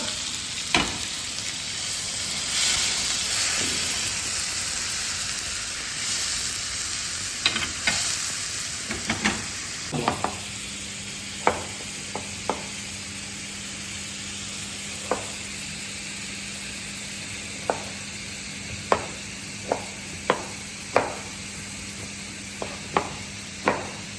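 Onion paste frying and being stirred in a pan while fish sour curry is cooked, a steady sizzle throughout with sharp scraping strokes of the spatula, sparse early and then at regular beats in the second half.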